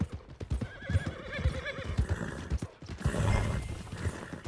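A horse in the Red Dead Redemption 2 video game clip-clops nearby and lets out a clear whinny partway through, with some mechanical rattling in the background.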